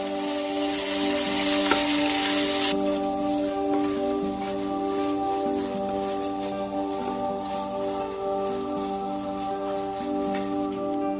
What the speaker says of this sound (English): we're going to be adding in the mint leaves and continue to saute until the tomatoes become